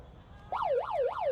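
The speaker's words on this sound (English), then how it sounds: "And there goes the final siren." A final siren ending a women's rugby sevens match starts abruptly and wails up and down in quick, regular sweeps over faint background noise.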